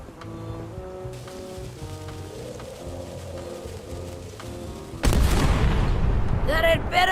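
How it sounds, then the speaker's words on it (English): Ship cannon fire in an adventure video game lands as a sudden loud blast about two thirds of the way through. It is followed by rumbling debris and ringing tones, and it cuts in after a quieter stretch of soft musical game sounds. "Ready for cannon firing."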